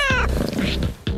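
A pet cat meows clearly and close by, two drawn-out calls with a brief pause between them.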